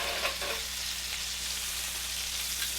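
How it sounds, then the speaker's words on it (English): Venison backstrap searing in a very hot pan, a loud continuous close sizzle with a few brief crackles and no voices. "Crank up the heat and get this thing searing."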